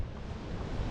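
Strong outdoor wind gusts hard against the microphone at a ramp-building site, producing a loud, continuous, rumbling roar with no voices.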